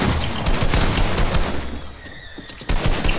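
Rapid bursts of automatic gunfire in a Fortnite match crackle loudly and densely, with a brief lull before another burst near the end.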